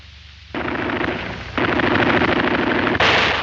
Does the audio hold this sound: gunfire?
yes